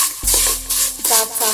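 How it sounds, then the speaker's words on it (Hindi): Cashews sizzle in hot fat in a pan while being browned for sewai kheer, a spoon stirring them through a bright, crackling fry that rises twice in short bursts. "अब इसमें हम काजू डाल देंगे, इसे भी हल्का ब्राउन कर लेंगे"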